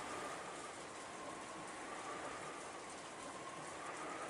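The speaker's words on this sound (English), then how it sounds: "The silence within too was filled by the sound of the wind and the rain." Steady rain falls with a faint, even hiss of drops and a soft wind wash beneath it, constant and distant throughout, with no talk.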